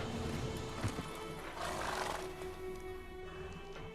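Roach, a horse in The Witcher 3, whinnies and trots with steady hoof clops under a dense layer of game ambience and music, fairly loud throughout.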